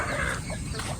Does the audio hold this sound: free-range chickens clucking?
yes